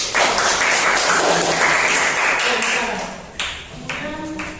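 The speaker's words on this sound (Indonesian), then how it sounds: "Kita beri aplaus untuk kelompok 1" Classroom applause for a student group after a presentation in a teacher-training lesson, a steady wash of many hands clapping that tapers slightly toward the end, with a few voices mixed in.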